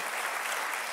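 A church congregation clapping together in a steady, dense burst of applause that fills the whole second, fairly even in loudness with no voices standing out.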